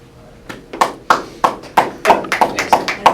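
Applause from a conference audience welcoming a speaker at an HR outsourcing event: about a dozen sharp, close claps spaced unevenly, with a few overlapping near the end.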